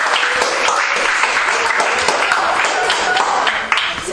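Applause from an audience at a youth trophy ceremony for a young winner, dense steady clapping filling the whole stretch with some voices mixed in.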